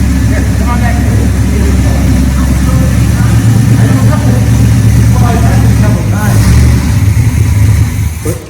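A 1967 Camaro RS/SS convertible engine running loud and close, a rough, throbbing idle with a steady low rumble throughout, while people talk over it.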